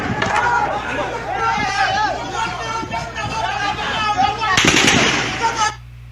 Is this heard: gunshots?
yes